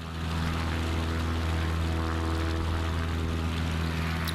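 A propeller plane drones steadily as it flies low over a lake in Microsoft Flight Simulator 2024, a loud continuous engine hum with a strong low buzz and no talking.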